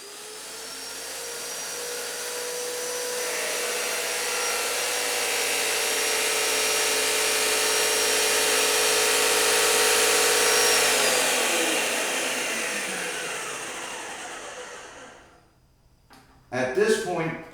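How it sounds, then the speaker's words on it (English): Paint sprayer motor running steadily in prime mode, a loud continuous whine that builds and holds for about fifteen seconds, then cuts off, followed by a short burst of clatter. "This in the up position is prime, so we'll prime until we see paint come out."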